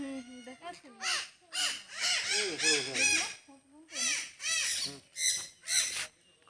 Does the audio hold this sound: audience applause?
no